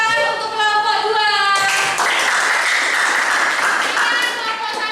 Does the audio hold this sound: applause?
yes